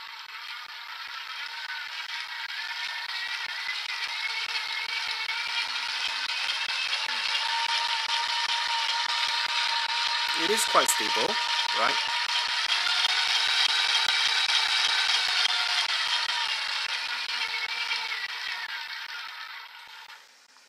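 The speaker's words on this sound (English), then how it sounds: "Right now, I'm going to turn on the grinder." Aikamo motor driving a manual coffee grinder, a steady whirring hum running continuously throughout, with a brief clatter midway and a voice speaking over it.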